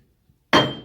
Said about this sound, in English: Now I got to get my lead hammer. I probably can just give it a little tap